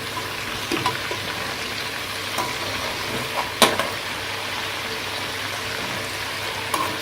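Desi chicken roasting in a pan, a steady close sizzle and fry hiss with a few light stirring clicks and utensil taps, no talking.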